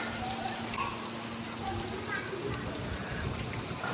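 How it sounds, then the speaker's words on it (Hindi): Steady rain falls outdoors near a brick kiln, making a dense, continuous hiss and patter on surfaces, with a low hum and voices talking faintly beneath it. "बारिश शुरू हो गई है, शुक्र अल्लाह का।"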